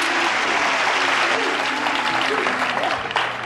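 Studio game-show audience bursts into loud, sustained applause and cheering that fills the room steadily, easing slightly near the end.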